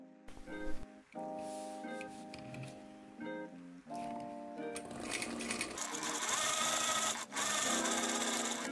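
Sewing machine stitching vegan leather pants, with stop-start bursts of rapid mechanical whirring and clatter that grow louder and more continuous toward the end.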